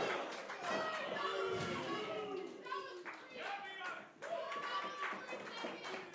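A Worcester wrestling crowd applauds and chatters after a tilt-a-whirl DDT counter in an intergender match, sustained clapping and cheering that runs throughout, with a commentator talking over it.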